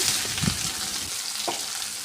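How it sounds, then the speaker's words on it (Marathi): Finely chopped onion sizzling in hot oil with mustard seeds and cumin, a steady close frying crackle with a couple of soft stirring bumps, no voices. "मोहरी आणि जिरे छान असे तेलामध्ये फुलले तर त्यामध्ये एक मोठा कांदा बारीक चिरून यामध्ये टाकून घ्यायचं"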